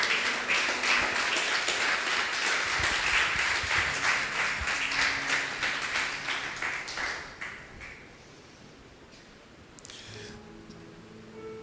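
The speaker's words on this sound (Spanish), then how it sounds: "Y la iglesia dice amén con un fuerte aplauso." A church congregation bursts into a strong round of applause during a Spanish-language sermon. The dense clapping carries for several seconds, then fades away to a quiet room.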